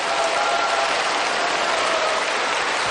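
Sustained applause from a lecture audience, a dense, steady wash of clapping hands that stays loud and even throughout with no talking over it.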